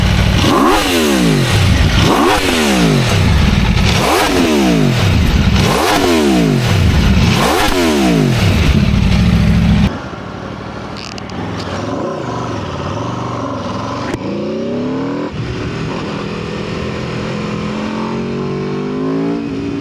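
An Aprilia RSV4 superbike engine in the mountains, loud and close, revving in five rising and falling surges, then dropping to a lower rumbling idle with rougher blips.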